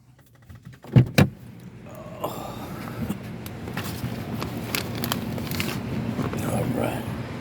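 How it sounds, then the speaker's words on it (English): Car keys are grabbed up, jangling in two quick bright bursts at close range, followed by steady rustling and a low hum in the background. "I grab the keys."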